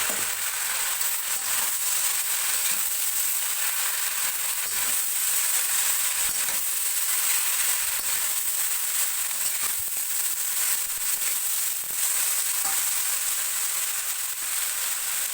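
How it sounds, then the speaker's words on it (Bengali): Pieces of elephant apple (chalta) frying in oil tempered with spices, a steady dense sizzle and crackle that runs unbroken throughout with no talk. "ফোড়নটা আমার ভাজা হয়ে গেছে, এইবারে আমি সেই চালতেগুলো দিয়ে দেবো।"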